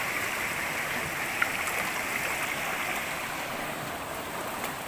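Constant broad rush of strong water pouring down a mountain waterfall, a steady hiss heard up close, with no voices.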